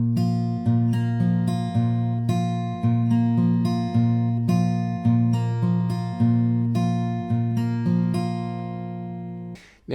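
Acoustic guitar fingerpicking the intro of a song: close, clear plucked notes in a steady repeating pattern, ringing bass and treble strings, played alone with no voice.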